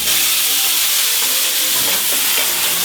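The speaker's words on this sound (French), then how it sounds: "Maintenant, on flambe avec de l'Armagnac." Armagnac flambéing over a beef fillet in a hot pan, a loud, steady roaring sizzle with hiss that stays close and continuous throughout, with a few crackles toward the end and no voices.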